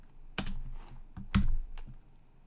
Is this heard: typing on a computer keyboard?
yes